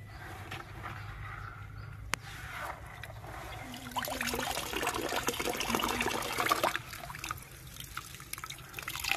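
Black soldier fly maggots are rinsed under running water, giving a close, uneven trickle and splash that grows louder and denser in the middle before easing off, with no one speaking.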